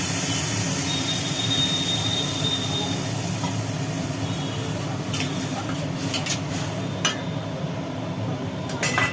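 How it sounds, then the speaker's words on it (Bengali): Mustard paste and green chili water hit a hot pan of fried potatoes and okra, giving a loud, steady sizzle with a few utensil clinks toward the end. "সর্ষে আর কাঁচা লঙ্কার জল পড়লো"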